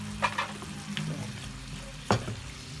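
Beef tapa sizzles in a hot pan as it is stirred with black pepper, a steady frying hiss with a few scraping stir strokes, one sharper scrape near the end.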